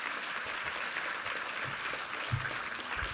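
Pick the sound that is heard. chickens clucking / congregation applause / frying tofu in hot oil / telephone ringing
congregation applause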